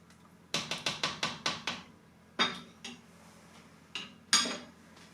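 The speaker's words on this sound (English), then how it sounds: "So I'll give it a stir" A pot of lamb tagine being stirred, a quick run of about seven metallic clinks of a utensil against the pot, then a few scattered louder knocks and taps, close and clear with no speech.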